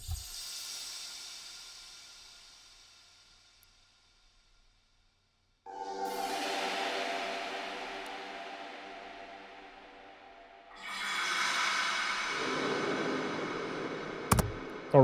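Dark psytrance background atmosphere built from layered textures through a very long reverb, swelling washes that fade to near silence, return as a dense tonal drone, then shift into a brighter, louder layered bed with a sharp click near the end.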